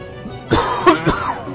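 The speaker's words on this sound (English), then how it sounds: "Starting to develop a cough." A single tired cough late at night, close to the microphone: one harsh double-burst bark over a quiet background.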